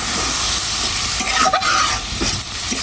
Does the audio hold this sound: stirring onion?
yes